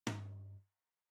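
A single MIDI tom drum hit shaped with EQ and a low cut, a sharp attack followed by a ringing low body that holds about half a second before stopping cleanly, alone and quiet.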